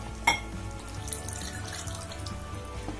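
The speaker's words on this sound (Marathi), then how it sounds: "आपल्या आवश्यकतेनुसार आपण यामध्ये पाणी घालून घेऊ." Water is poured into a simmering dhaba-style egg curry in a pan, a soft continuous trickling after one sharp clink at the start, fairly quiet and without speech.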